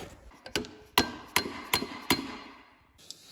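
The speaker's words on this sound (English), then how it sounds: "So we've been hammering at these two valves that were stuck down" Hammer blows on stuck engine valves of a 1998 Toyota Tacoma, five sharp metallic strikes in a steady rhythm, close and loud with ringing decay, no talking.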